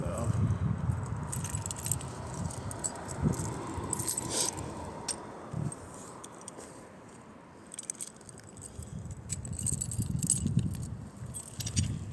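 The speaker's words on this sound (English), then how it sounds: "Keys." Keys jangling close by for several seconds, a busy metallic clinking and rattling that rises and falls with handling noise, with a brief quieter stretch in the middle.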